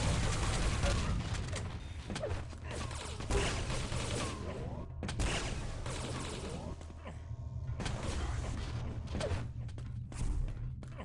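Quake Live team deathmatch in a tournament grand final, with dense rapid weapon fire from rockets and plasma guns. Loud overlapping bursts and thuds continue throughout, and a commentator talks over the gameplay.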